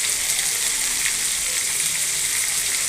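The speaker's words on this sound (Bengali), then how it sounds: "কাতলা মাছটা ভাজা হয়ে গেছে," Katla fish fries in oil in a pan, giving a loud, steady, even sizzle that fills the whole moment with no talking.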